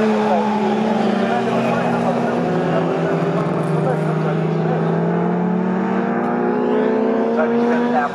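Classic racing cars, a Jaguar among them, roar loud and close through a braking zone at Snetterton in a CSCC race, engines droning and pitch sliding down as they slow, with commentary running over the top.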